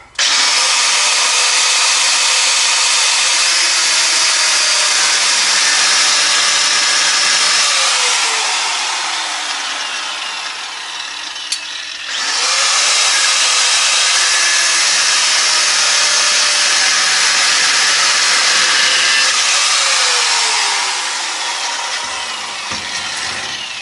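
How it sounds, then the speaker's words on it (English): Steel U-bolts on the rear leaf spring of a 1972 C10 truck being cut with a loud power tool, two long continuous cutting passes separated by a brief pause, no talking. "so I'll cut the U-bolts, just this one"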